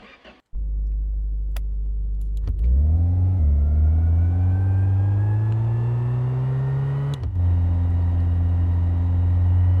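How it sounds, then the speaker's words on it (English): A Lada Niva in a driving game climbs a hill, its engine revving up loudly and holding a steady, rising drone, with a brief gear change partway through and no talk over it. "no problem for the little Neva to get up this hill"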